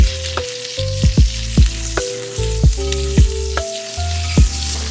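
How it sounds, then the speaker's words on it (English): Onions sizzle and fry in a pan as they caramelize, a steady crackling hiss broken by repeated stirring clatters, close and loud with no talk. "I'm gonna go ahead and add my onions in here. I'm gonna start caramelizing those guys down."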